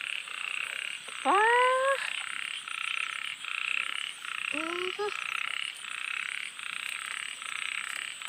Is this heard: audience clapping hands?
no